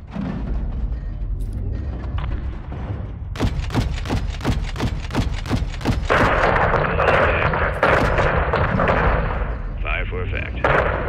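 Artillery and gunfire in the Modern Warfare II video game campaign: a rapid series of about nine sharp heavy blasts in a steady rhythm, followed by a dense roaring crackle of continued fire, loud and near.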